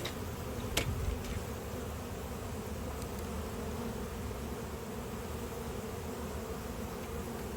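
A steady, faint drone of honey bees buzzing around an open hive during an inspection, continuous and even with a brief louder tap near the start.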